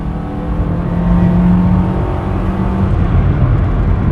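A 1997 Toyota Corolla engine drones loudly and steadily under kickdown acceleration, a sustained rising roar heard from inside the car.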